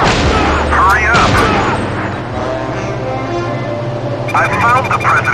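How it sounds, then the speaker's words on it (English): Gunfire from the Silent Scope sniper video game, with sharp booming shots near the start and a rapid burst near the end, over game music and a voiced game announcer. "The enemy is going to shoot!"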